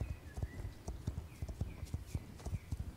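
Horse hooves clip-clop in Star Stable as a horse is led at a steady walking pace, with soft, regular thuds and a faint tonal game sound behind them.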